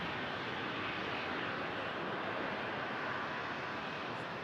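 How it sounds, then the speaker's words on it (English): A Flair Boeing 737 MAX 8 at Toronto Pearson airport produces a distant, steady engine roar that holds at an even, moderate level, alone without talk. "Flare 737 MAX 8."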